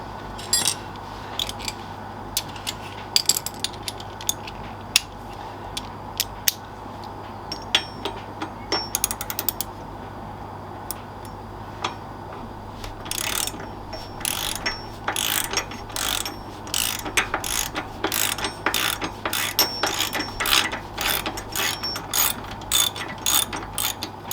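A socket ratchet tightens bolts on a motorcycle pannier guard during installation on a 2021 Harley Sport Glide, producing rapid clicking bursts that start sparse and become dense, fast runs near the end over a low steady hum.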